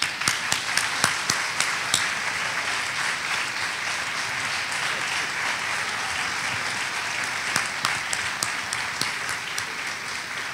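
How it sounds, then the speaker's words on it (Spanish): An award ceremony audience breaks into sustained applause, a broad crackling wash of many hands with clear sharp claps at a steady pace near the start and again toward the end, with no one speaking. "Ahora sí pido yo un aplauso"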